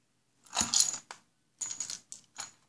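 Small plastic dice for a Monopoly board game being taken out and clattering on a hard surface in a few short, close bursts of rattling clicks separated by brief pauses.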